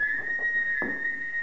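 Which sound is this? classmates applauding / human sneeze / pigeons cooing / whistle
whistle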